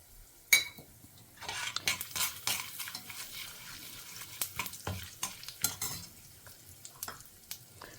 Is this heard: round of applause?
no